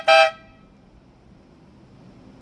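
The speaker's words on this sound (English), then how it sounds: "so that was the air horn" A single short, loud blast from an air horn mounted on a gas-powered bicycle sounds outdoors, then fades into quiet background.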